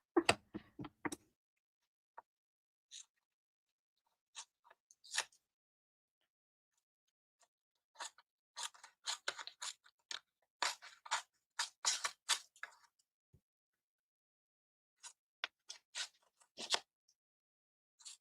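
Scissors trim a gelli-printed paper piece in short, crisp snips. Quiet single cuts come first, then a denser run of rapid snips, with silent pauses between them.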